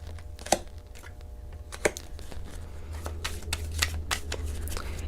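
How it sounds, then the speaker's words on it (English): Tarot cards are shuffled by hand close up, a run of crisp riffling and slapping bursts at irregular intervals over faint room hum. "So I'm going to keep on doing my shuffling and I'm not going to fast forward"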